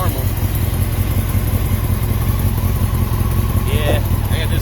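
A Repsol motorcycle engine idles with an exhaust leak, a loud steady close-up rumble with a fast pulsing beat and a faint ticking hiss throughout.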